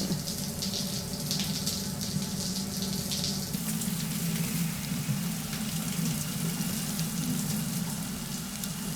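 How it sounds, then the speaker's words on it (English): Shower water running steadily in Death Stranding, a continuous broadband hiss and patter of spray that holds at an even, fairly loud level throughout with no voices. "I just want to see what happens if I take a shower after I'm already clean."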